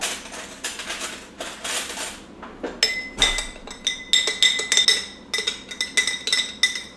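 Salad dressing shaken in a glass mason jar: a rapid, uneven series of bright clinks and rattles of liquid and lid against glass, close and loud, without voices.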